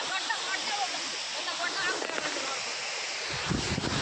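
A small hidden waterfall rushes in a steady broad roar up close, with a brief low thump near the end.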